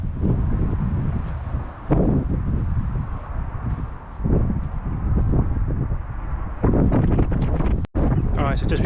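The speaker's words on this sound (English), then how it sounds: "Chosen a terrible day for it because it's so windy." Gusty wind buffets a microphone outdoors on a farm beside a Claydon drill, a loud continuous rumble with surges and brief dips throughout.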